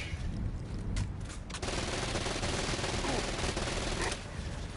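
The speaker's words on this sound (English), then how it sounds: "Yeah, lava cannon's the way to go." A lava cannon fires in the video game Disoriented as a dense, sustained rapid-fire barrage of shots, loud and continuous throughout.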